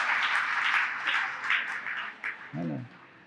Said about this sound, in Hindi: एक बार ताली तो बजा दो।